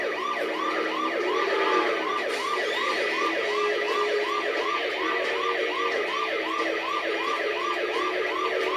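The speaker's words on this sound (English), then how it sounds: "I'm going to change the siren lines, because why not? I like this one." Police siren from the Burnout 2 racing video game, a fast repeating wail sweeping up and down steadily and loud throughout, with no talk over it.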